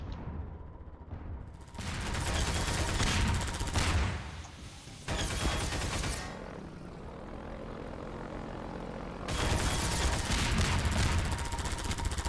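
Gunfire aimed at the player in Half-Life 2 comes in loud, dense stretches over a droning engine-like rumble, breaking off and returning several times.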